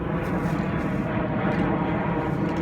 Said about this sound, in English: These planes are so loud.